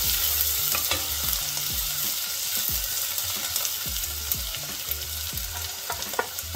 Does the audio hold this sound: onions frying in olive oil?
yes